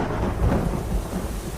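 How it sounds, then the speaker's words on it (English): Thunder rumbling under heavy rainfall in a story sound effect, a dense, loud roar of downpour with deep low booms rolling through it. "The next crack of thunder was so loud I felt it in my chest."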